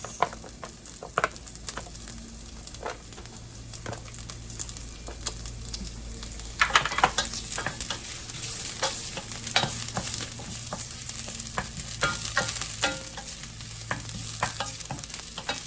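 Ginger fries in a pan at the start of cooking sweet and sour pompano fish, a continuous crackling sizzle with frequent sharp pops and occasional stirring scrapes, close and steady throughout.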